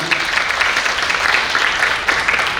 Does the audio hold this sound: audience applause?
yes